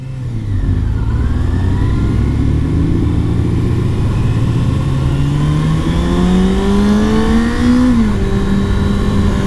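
A 2019 Ninja ZX-6R sport motorcycle engine revs and accelerates steadily on a freeway, pitch climbing through the gears with a brief drop near the end, loud and close with no talking.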